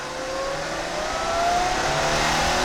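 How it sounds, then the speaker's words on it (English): An early-2000s Holden Commodore Calais with a supercharged L67 V6 revs steadily and loudly, a thin rising whine riding over the engine's continuous roar for a few seconds. "That supercharger whine is next level."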